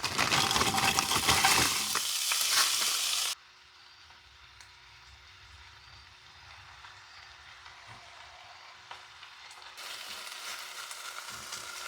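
Peppers and onions sizzle in avocado oil during outdoor driveway camp cooking, a loud, dense frying hiss that drops to a faint simmer for several seconds, then swells again near the end.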